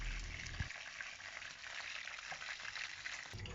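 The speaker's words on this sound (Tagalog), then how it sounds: "Pagkatapos ay aprituhin muna natin para matanggalin lansa." Giant prawns frying in hot oil, a steady close sizzle and crackle that runs throughout with a faint stir or clink near the start.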